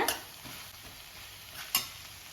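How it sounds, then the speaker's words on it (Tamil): A spice masala of pepper and turmeric sautés in a pan for chayote kuzhambu, giving a low, constant sizzle broken by two quick stirring scrapes. "இதை அப்படியே லைட்டாக வதக்கி விடுங்க"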